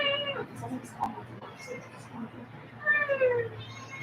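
A cat meows several times in drawn-out, rising and falling calls at close range, the clearest near the end, over a low steady hum with a person's voice faintly in the background.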